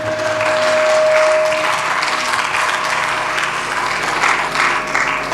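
Loud, sustained applause from a congregation during a Punjabi-language religious sermon, steady clapping filling the whole stretch with a steady tone running under the first part.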